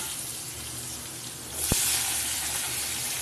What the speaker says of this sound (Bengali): দেখো তেলের মধ্যে পটল আর আলু দিয়ে